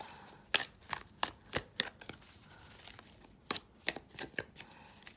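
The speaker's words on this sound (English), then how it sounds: "They're not so easy to shuffle." Tarot cards being shuffled by hand in a series of crisp, papery riffles and slaps, close and clear, with short pauses between bursts.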